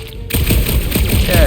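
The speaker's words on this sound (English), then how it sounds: "I shot something, like you said." Rapid gunfire in the Guardians of the Galaxy video game, a dense burst of shots starting abruptly and running steadily and loudly to the end over a game soundtrack.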